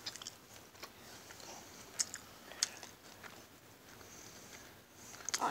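Quiet, close-up biting and chewing of a fast-food hamburger, soft wet crunches and mouth sounds spaced irregularly, with faint room background and no talking.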